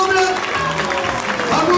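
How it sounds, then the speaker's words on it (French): An audience at a children's Christmas show at OK Corral applauds continuously for the young performers, a loud, even patter of many hands with voices talking over it. "Et on applaudit tous les autres enfants qui ont participé"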